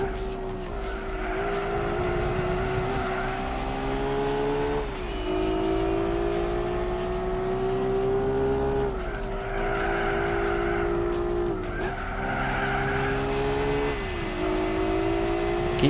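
Gran Turismo 4 race car during an extreme-event race, engine notes dropping and rising through repeated downshifts with brief tire squeal, loud and continuous without talk.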